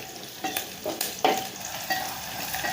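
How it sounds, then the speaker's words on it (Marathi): Onion, garlic and coconut fry in a pan and are stirred, a soft constant sizzle broken by several scraping stirs close by. "अगोदर कांदा चांगला असा तळून घ्यायचा आणि मग लगेच त्यात लसूण टाकायचं आणि खोबरं टाकायचं आणि चांगलं असं परतून घ्यायचं"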